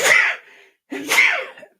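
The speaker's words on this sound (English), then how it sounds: "I've been sneezing like crazy." Two loud, close sneezes from a man, each a sharp burst followed by a trailing exhale, separated by a brief pause.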